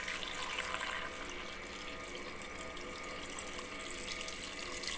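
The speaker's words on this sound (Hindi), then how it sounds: "पानी हम इसमें ऐड करेंगे" Water pours steadily into a cooking pot of mutton paya made with goat trotters, spices and green chillies, a continuous close rushing splash with no talk.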